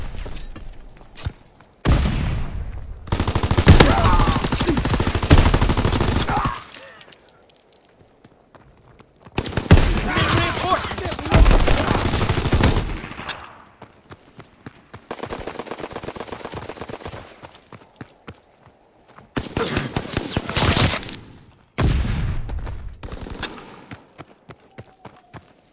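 Bursts of machine gun fire in the Call of Duty WWII video game come as loud, dense rattling volleys lasting a few seconds each, separated by near-silent gaps, with a couple of sharper single shots between them.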